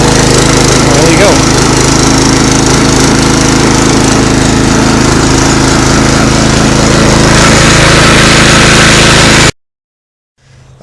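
A Toro lawn mower engine, freshly broken in, runs loud and steady with a constant droning roar, then cuts off abruptly near the end.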